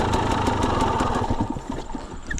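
A dirt bike in first gear bogs toward a stall while rolling up to a log hop, its engine chugging low and uneven with a steady rumble that dips and sags, close by.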